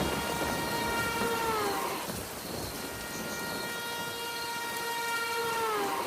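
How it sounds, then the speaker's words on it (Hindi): Last train pulling into a railway station at night, a sustained whistle-like tonal horn with rumbling rail noise that dips briefly and then returns, steady and fairly loud with no talking. "रेलवे स्टेशन पर आखिरी ट्रेन आई।"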